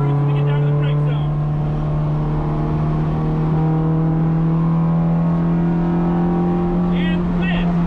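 A Honda Civic EG runs at full throttle on a race track, its engine holding a loud, steady, high-revving drone with strong harmonics that climb slowly and barely waver throughout.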